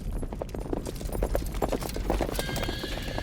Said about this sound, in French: Est-ce qu'on pourrait peut-être réentendre un instant les sabots des chevaux que Buffon a si bien décrits?